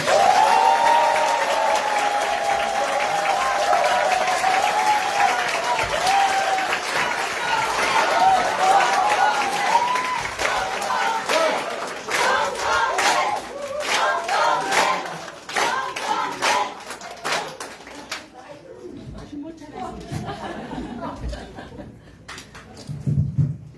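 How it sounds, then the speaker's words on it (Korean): An audience at a party members' meeting in Jeju gives sustained, loud applause to welcome a speaker, the clapping running for about twenty seconds before thinning out and fading. "뜨거운 박수로 모시겠습니다"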